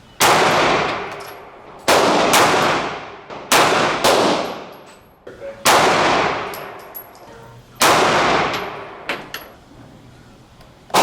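Single shots from a Smith & Wesson M&P Shield Plus 9mm pistol at a shooting range: five loud, sharp cracks, evenly spaced about two seconds apart, each decaying into a ringing echo.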